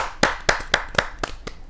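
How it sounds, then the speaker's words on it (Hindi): Audience at a Hindi poets' gathering giving a rhythmic welcome clap for a poet from Pilibhit, about six sharp, evenly spaced claps, close and clear with no talk. "जोरदार ताली के साथ राकेश रतन जी का स्वागत है"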